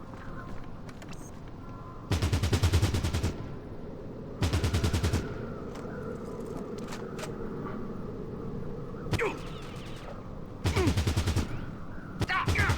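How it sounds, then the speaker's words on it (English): Bursts of automatic gunfire in the video game Fallout Tactics: Brotherhood of Steel, four loud rapid volleys of about a second each separated by quieter stretches with a single shot between. "Stop shooting at our glorious leader, you fools."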